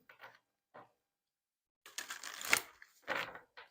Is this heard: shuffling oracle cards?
yes